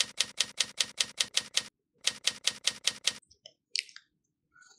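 A typewriter sound effect clacks in quick, even keystrokes, about nine strikes, a short pause, then about six more, followed by a few faint scattered clicks and near silence.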